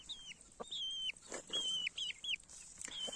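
Chickens cluck and squawk close by, with several short rising calls in quick succession over a quiet background.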